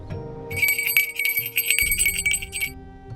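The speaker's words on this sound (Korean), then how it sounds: "우리들이 온 쪽과는 반대쪽에 있는 울타리에서 무서운 기세로 종소리가 울렸습니다" A bell on a fence rings violently as a ghost-story sound effect. It makes a rapid, shrill, continuous jangle for about two seconds over a low, eerie drone.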